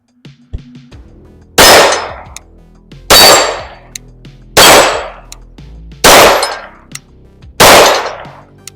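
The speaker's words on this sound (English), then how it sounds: "we're gonna run 5 rounds of the Federal Law Enforcement Plus P Plus jacketed hollow point" Five loud, evenly spaced shots from a Glock 19X pistol firing Federal Law Enforcement +P+ jacketed hollow point rounds, each a sharp close blast with a ringing decay, roughly 1.5 seconds apart.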